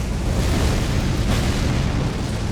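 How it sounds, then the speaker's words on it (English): A massive fiery explosion roars during the Messmer the Impaler boss fight in Elden Ring's Shadow of the Erdtree, a loud sustained blast of rumbling fire that fills the whole moment. "Big explosion."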